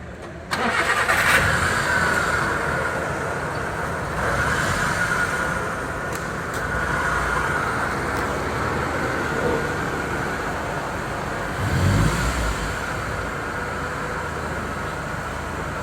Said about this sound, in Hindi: अभी हम आपको स्टार्ट करके दिखाते हैं